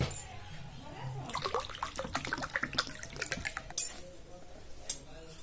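Water poured into a glass, a bright splashing pour starting about a second in and running for several seconds with a few faint clinks near the end, close and fairly quiet.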